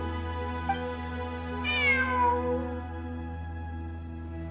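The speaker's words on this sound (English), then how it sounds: "It really is a cat." A single cat meow in the video game Genshin Impact, a clear, drawn-out, falling cry over a steady game ambience hum, heard alone without talk.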